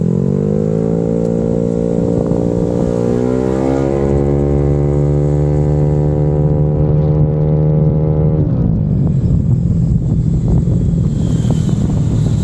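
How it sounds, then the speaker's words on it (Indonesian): A Yamaha Aerox 200cc scooter rides on a road, its loud engine drone holding a steady pitch, rising as it accelerates, then dropping away into rough wind noise near the end. "Jadi sekarang gua mau ngetes motor Aerox New ini di jalanan BSD."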